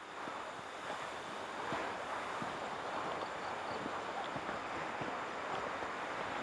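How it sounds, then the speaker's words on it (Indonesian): A strong river current rushes past in a steady, loud, broadband roar of fast water, unbroken for the whole stretch with no voices. "Deras banget aliran arusnya Mas. Kencang banget"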